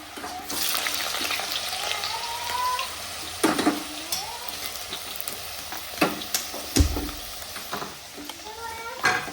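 Potatoes frying in hot oil in a brass pan make a steady bubbling sizzle, broken now and then by scraping stirs and sharp clatters.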